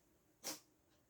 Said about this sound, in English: was that a sneeze? What do you think? I think that was a sneeze.